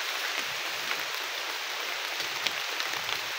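Rain falls steadily on a single large leaf used as shelter in the forest, making a soft, even hiss with scattered faint pattering drops and no other sounds.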